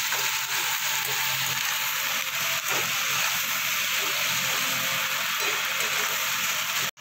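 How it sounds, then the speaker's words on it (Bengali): Onion and garlic fry in a pan, giving a steady, hissing sizzle that carries on without pause at close range. "পেঁয়াজ রসুনটা আমার অনেকটাই ভাজা হয়ে গেছে"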